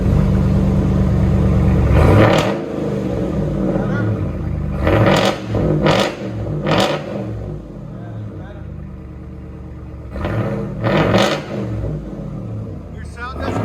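A deep 6.4-litre Hemi V8 in a 2022 Ram Power Wagon pickup with a Flowmaster Outlaw exhaust rumbles and revs repeatedly, with several sharp bursts of acceleration rising and falling over a steady low idle.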